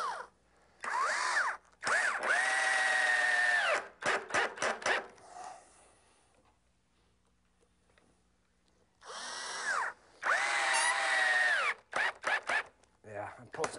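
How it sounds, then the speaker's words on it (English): Power drill driving 3-inch drywall screws into wood in two separate bursts, each rising to a loud whine and then finishing with short stuttering pulses, with a quiet pause between them. "we're going to be using 3-inch drywall screws"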